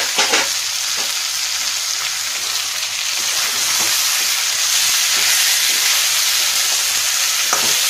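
Ground spices with ginger paste, chili powder and coriander powder sauté in a hot pan for a Bengali fish-head muri ghonto. A loud, steady sizzle continues, with occasional scraping ticks from stirring.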